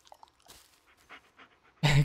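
Dog panting in the horror video game Blair Witch, a few faint breaths and soft whimpers followed by a sudden loud, close burst of heavy panting at the end.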